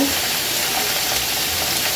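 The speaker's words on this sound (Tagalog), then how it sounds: "Prito natin ang bahagya ito. So, konting mantika lang nilagay ko." A steady, close sizzle of salmon steak frying in a little oil in a pan, continuous and even throughout.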